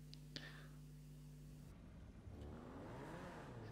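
A car in GTA V Online drives inside a bunker, its engine hum rising as it accelerates partway through, heard faintly under a quiet game soundscape.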